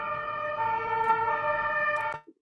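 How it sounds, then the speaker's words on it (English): An ambulance siren wails outside, heard as a steady tonal siren at moderate distance that fades out at the end, with no talk over it. "So an ambulance just arrived."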